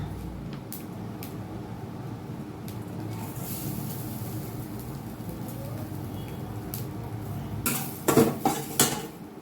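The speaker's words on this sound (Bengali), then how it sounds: "শুকনো খোলায় ভালো করে আমি এটাকে ভেজে নেব" Garlic, chilli, nigella seeds and grated coconut dry-roast in a hot pan with a steady rustling hiss, then a short burst of sharp metallic scraping and clinks near the end. No voices.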